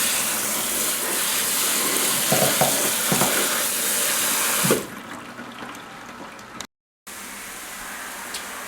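Vegetables sautéing in a pan, a loud dense sizzle with occasional stirring clatter for several seconds before the noise drops sharply to a quieter background, then a brief silence.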